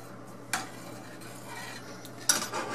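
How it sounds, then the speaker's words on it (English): A ladle stirs a lime juice mixture in a pot or bowl, giving two short scraping clinks about two seconds apart over a quiet background. "Give it a stir here with this ladle"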